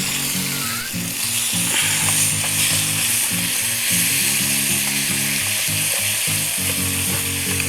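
Pork sizzling in a pan with paprika at a car camp, a steady bright frying hiss running throughout, with intermittent low humming tones and occasional scraping stirs, fairly loud and close.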